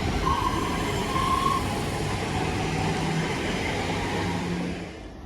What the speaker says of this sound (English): there goes 1232 Northern service to Stoke On Trent from Manchester Piccadilly